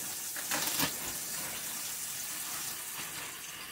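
Cold tap water gushes into a sink while it fills, a close, steady rushing hiss with a brief louder splash near the start, running unbroken and alone.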